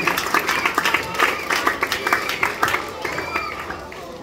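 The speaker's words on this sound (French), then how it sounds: "On applaudit fort, on applaudit." Crowd applauding strongly at a primary school year-end closing ceremony, dense sustained clapping with voices mixed in throughout.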